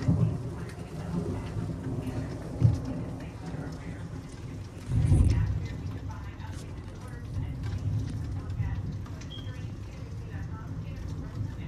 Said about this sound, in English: Look at some of that rain, though.